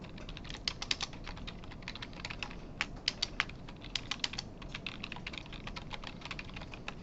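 Typing on a computer keyboard while entering details to create a new account, a steady run of light clicking keystrokes with a few louder taps, close and alone with no talking.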